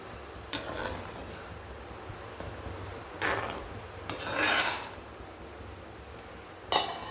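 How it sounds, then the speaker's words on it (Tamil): Asafoetida being stirred into a pot of rasam, a few short scraping, rubbing strokes of a utensil against the pot at spaced intervals, fairly quiet and close, with no talking. "போட்டு ஒரு கிண்டு கிண்டி விட்டுக்கலாம்"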